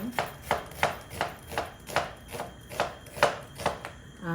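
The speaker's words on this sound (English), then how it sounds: "I'm going to cut the onion." A knife chops an onion on a board in a steady rhythm of about ten crisp, close strikes over four seconds, with no voices.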